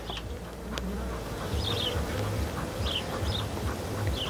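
Honey bees at a hive in winter, near a block of candy feed, make a low, wavering buzz with a few brief higher chirps over a rough background.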